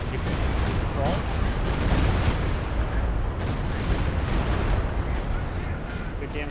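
Artillery barrage in the video game Company of Heroes 2: dense, continuous rumbling blasts and crackling impacts rolling on without pause, loud and full throughout, with a voice talking over it at times.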